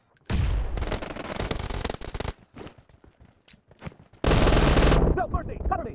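Bursts of automatic gunfire from the shooter game BGMI, heard in a long rapid rattle, then scattered single shots, then another loud sustained burst followed by sharp ricochet-like pings, close and loud.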